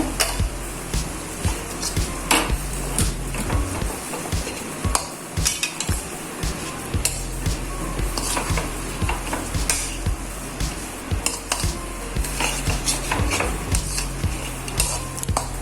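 Dry fruit laddu mixture stirred in a pan over a medium flame: a spoon scrapes and clinks against the metal in a quick repeated rhythm over a faint sizzle, close and clear.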